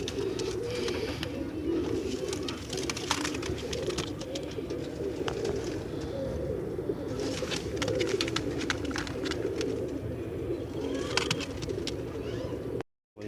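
Pigeons at the Multan pigeon market coo softly and steadily for about thirteen seconds, their low burbling calls mixed with faint clicks and market bustle in the background.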